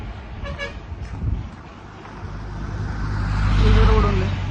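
A bus approaching and passing on an empty road between Srisailam and Mahanandi, engine rumble swelling to a loud close peak near the end after a short horn toot, with someone talking early on.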